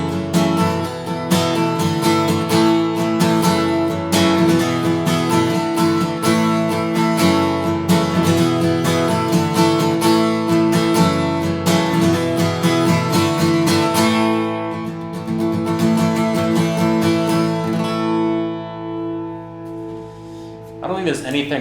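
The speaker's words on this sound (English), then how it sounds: "When I'm playing by myself on an acoustic, I usually make the ending pretty dramatic." Acoustic guitar strummed through a dramatic worship-song outro, full and loud chords ringing for about fifteen seconds before thinning into sustained, slowly fading notes and a final struck chord.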